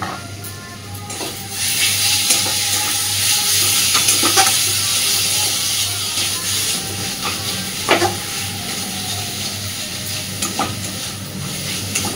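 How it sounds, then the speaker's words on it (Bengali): Grated radish frying in oil in a pan gives a steady loud sizzle with hiss, broken by occasional scraping stirs and clinks of a utensil against the pan. "যত মূলোটা ভালোভাবে ভাজা হয়ে যাবে তত আস্তে আস্তে কিন্তু মূলোর থেকে তেল বেরোতে শুরু করবে"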